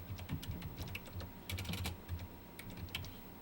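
Steady, fast keystrokes tap away on a computer keyboard as someone types a chat message in an online class, close and fairly quiet, with no talking.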